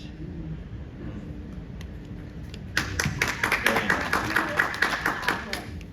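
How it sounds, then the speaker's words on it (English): Audience applause after a live poetry reading at a cafe, starting suddenly partway through as a modest round of close, rhythmic hand claps following quieter room ambience and a voice. "You shouldn't applaud us"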